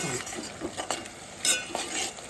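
Fish curry masala fries in oil while a spoon stirs and scrapes the pan, a soft sizzle under irregular scraping and light clinks, close and moderately quiet.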